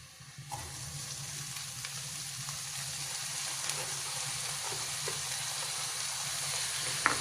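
Cabbage and garlic stir-fry in a pan with a continuous, even sizzle, while occasional faint scrapes and taps from a utensil sound close by and no one talks.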